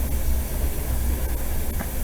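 A passenger train running from Sofia to Varna in Bulgaria gives a steady, loud, close rumble with a continuous hiss and faint rail clicks throughout, and no voices.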